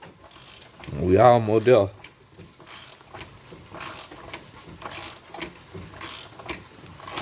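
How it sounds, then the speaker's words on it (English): A power steering pump pulley is worked off with a ratchet: intermittent close mechanical clicks, scrapes and metallic knocks, with a short spoken remark near the start. "Right now I'm taking the power steer pump pulley off."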